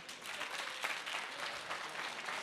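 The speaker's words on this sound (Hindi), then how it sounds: "बीच में ताली बजा रहे थे क्या?" Audience applause during a televised Hindi political debate, a continuous wash of many hands clapping at moderate distance, steady and even throughout with no talk over it.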